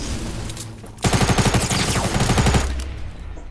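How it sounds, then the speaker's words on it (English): Rapid SMG fire in the video game Fortnite, a loud sustained burst of fast repeated shots lasting about a second and a half, heard alone and up close. "Ooh, purple SMG."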